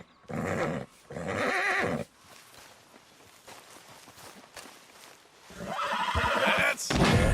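A horse neighs and whinnies in the video game Red Dead Redemption 2, two loud whinny bursts at the start, quieter shuffling and hoof movement in the middle, then a louder burst of horse noise near the end.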